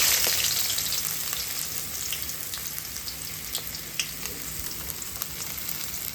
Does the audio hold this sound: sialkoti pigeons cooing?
no